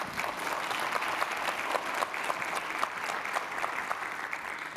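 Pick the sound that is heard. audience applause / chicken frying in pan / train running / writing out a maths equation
audience applause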